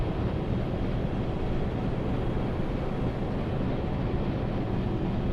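A U-boat's engine in a submarine video game, heard from inside the boat as a steady, loud, broadband rumble with no change in rhythm, continuous throughout, without speech.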